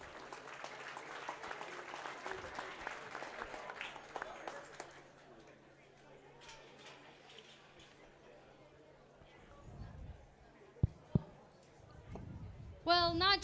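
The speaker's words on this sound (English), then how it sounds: "If everyone could please give her a huge round of applause" Crowd clapping at the Las Animas County Fair beef show, a dense patter for the first few seconds that fades. A voice talks over a public address system, followed by a few sharp knocks and rustles.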